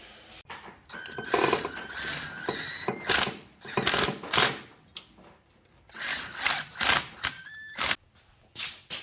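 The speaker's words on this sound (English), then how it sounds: "We'll throw all the studs in there and get the manifold bolted up for the last time." Ratchet wrench tightening nuts on studs to bolt an engine manifold in place, heard as bursts of quick metallic clicking that stop and restart several times, close by.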